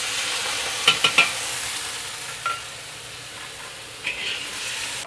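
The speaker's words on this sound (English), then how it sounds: "Fry this chee sauce a little bit. And I'm going to hit it with Shaoxing wine." Chee sauce fries in a hot pan with a steady close sizzle, a quick cluster of sharp clinks early on, and a couple of brief hissing bursts as Shaoxing wine hits the pan.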